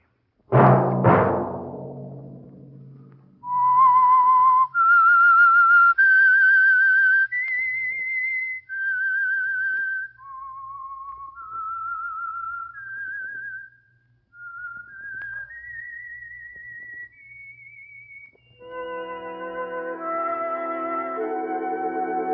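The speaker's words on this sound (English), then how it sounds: "Let that whistle be your signal" The whistled theme of the 1947 radio drama The Whistler: clear, sustained notes stepping up and down, opening after a sharp burst of sound and ending with a fuller musical chord.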